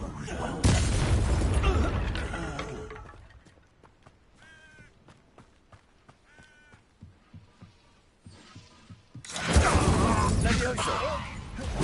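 A fire spell burst in Hogwarts Legacy: a loud, roaring whoosh and boom opens the clip and a second heavy burst hits near the end, with quieter crackles, pops and a voice between them.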